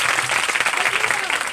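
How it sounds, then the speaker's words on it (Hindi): Church congregation claps together in a loud, dense burst of applause that holds steady throughout, many hands close by with no voice on top. "जितने लोग कहते हैं उसके लिए एक बार ताली बजाएंगे"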